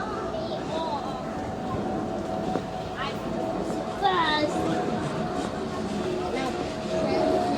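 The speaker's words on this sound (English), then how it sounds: "oh look, here comes a Docklands Light Railway train." A Docklands Light Railway train approaches a London station with a low steady rumble and a faint whine that builds gradually, while a nearby voice and bits of background chatter run over it.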